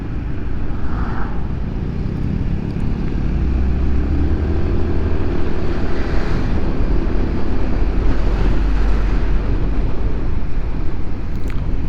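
Steady roar of morning city traffic heard while riding a motorbike, continuous wind and engine rumble with low droning vehicle tones rising and falling, loud and close throughout.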